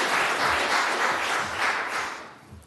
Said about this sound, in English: I usually don't get applause when I talk.